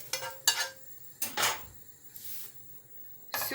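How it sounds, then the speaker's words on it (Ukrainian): Fried eggplant pieces are tipped from a pan into a pot in a home kitchen, with a few separate clanks and scrapes of metal cookware spaced unevenly, close and fairly loud against quiet. "Все це я пересипаю в кастрюлю"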